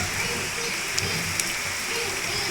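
Heavy monsoon rain falls outside in a steady, dense hiss with a couple of sharper drop taps, continuous and even throughout.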